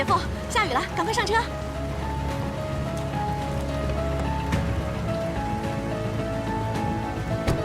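Rain falling outdoors as a steady, even patter spread across the whole scene, with sustained musical tones and voices layered over it.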